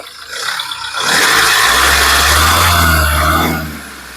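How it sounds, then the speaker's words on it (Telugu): A 2016 Mahindra XUV500 W10 engine revved with the accelerator: a loud, close roar rises sharply, holds for a couple of seconds with a deep rumble and some rattle, then falls away. "ఒకసారి యాక్సిలేటర్ ఇచ్చి ఇంజన్ యొక్క నాయిస్ అనేది వినిపిస్తున్నాను చూడొచ్చు"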